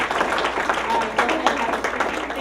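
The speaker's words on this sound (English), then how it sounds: "Another round of applause." An audience at a talk gives a round of applause, a dense wash of clapping at moderate volume with a faint voice mixed in underneath.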